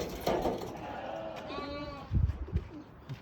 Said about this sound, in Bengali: এটা হচ্ছে খেজুর বাগানের ভিতরেই ছাগলের খামার, তারা ছাগল পালন করে থাকে।